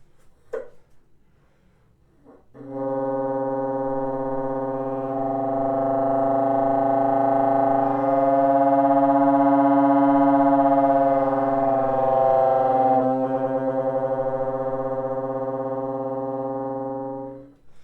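A single sustained, buzzy bassoon multiphonic, played with the pancake key lifted, holds for about fifteen seconds, its pitch wavering slightly and its beating texture shifting, played alone.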